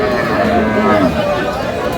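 Cattle at a livestock market, with a loud, continuous low lowing held for about two seconds beneath a steady crowd murmur and nearby chatter.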